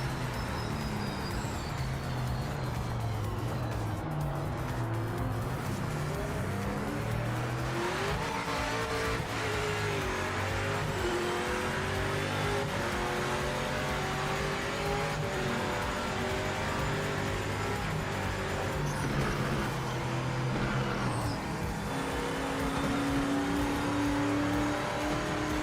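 Race cars in Project Motor Racing scream through a continuous run, engine notes climbing and falling through gear changes, with tires squealing and skidding close up and no talking.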